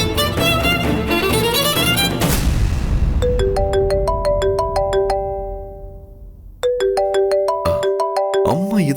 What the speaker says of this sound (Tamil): இத்தனை முறை ஃபோன் பண்றாங்க?